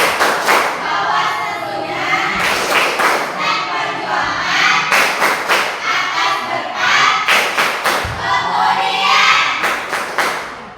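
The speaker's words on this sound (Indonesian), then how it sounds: "Sekali lagi, tepuk undang-undang." A classroom of children repeats a rhythmic clapping chant, their voices loud and blended in unison, with clusters of claps and thumps marking each phrase over roughly ten seconds.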